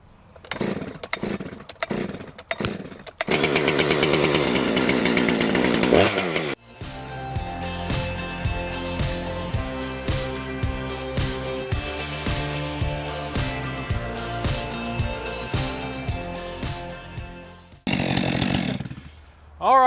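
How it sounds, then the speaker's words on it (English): A chainsaw starts with a few pulls, revs loudly, then settles into a long steady drone cutting red oak firewood, pitch fluctuating, before stopping and revving briefly again. "I can work for 20 minutes here with a chainsaw."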